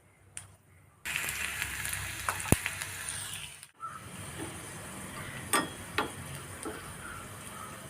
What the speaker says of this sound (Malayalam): കടുക് നന്നായിട്ട് പൊട്ടി വരുമ്പോൾ അതിലോട്ട് ഉള്ളി